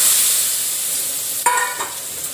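Chickpeas tipped into a pan of sizzling masala for restaurant-style chole, a steady fry hiss broken by a sudden burst of crackle and a couple of stirring scrapes, close and fairly loud.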